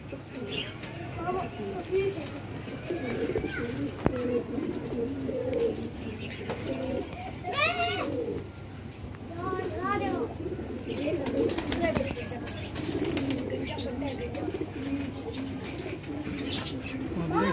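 Released pigeons coo in repeated low bursts outdoors, with a person talking over the birds throughout.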